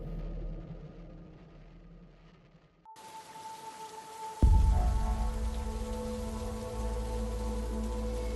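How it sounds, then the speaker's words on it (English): Heavy rain pours steadily on a dark night along winding West Virginia back roads, a dense continuous hiss that starts suddenly and deepens into a loud, low rumbling wash. "The rain fell relentlessly"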